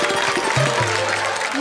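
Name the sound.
audience applause at a kavi sammelan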